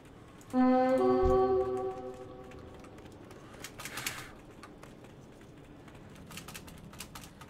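A large raptor bird creature calling in the video game World of Warcraft: Warlords of Draenor, one loud drawn-out tonal cry that fades away, followed by quieter game ambience and faint clicks.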